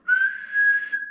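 A single steady whistled note held for about a second, aimed at a guitar tuner app, close and clear with no talking.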